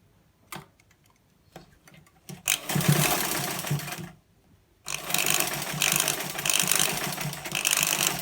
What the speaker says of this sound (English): I can now run a stitch on the shoulder